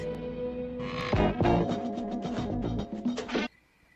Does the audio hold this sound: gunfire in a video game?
no